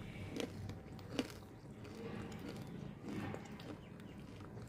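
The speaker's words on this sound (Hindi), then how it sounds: "देखिए हर एक बाइट में क्रंच है इसके अंदर" Someone bites into Bagrry's crunchy muesli with almonds, raisins and honey in milk, giving a few faint, short crunches early on and then quieter chewing.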